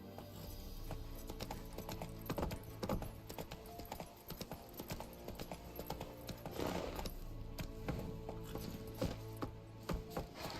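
Roach, Geralt's horse in The Witcher video game, galloping with a fast, steady rhythm of hoofbeats, close and clear, alone without talking.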